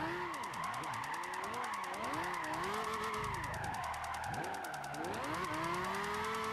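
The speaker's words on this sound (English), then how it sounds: "This time, when you get it sideways, it actually stays sideways." A Lamborghini drifts sideways in Gran Turismo 5. Its engine revs loudly and steadily while tyres skid and squeal throughout, with no talking.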